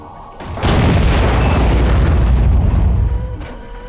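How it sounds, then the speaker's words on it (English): Torpedoes exploding in the underwater video game Aquanox: a loud, deep rumbling blast swells in quickly, holds as a heavy roar for a couple of seconds, then fades away, with no talking. "Oh, that's my torpedoes."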